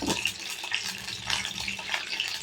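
Oil poured into a still-wet pan while cooking prawn gravy spits and splatters in a steady, loud hiss with crackling bursts throughout.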